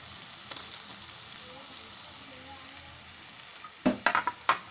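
Chickpeas with turmeric, salt and chili sauté in a pan. A low, even sizzle runs under the clip, then a few sharp scraping stirs close together near the end, with no voices.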